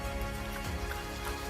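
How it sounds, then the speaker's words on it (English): Rain falling outside on a cold 44-degree day, a dense, steady patter of drops spread evenly throughout, close and continuous with no voices. "It's 44 degrees and it's nice and rainy outside."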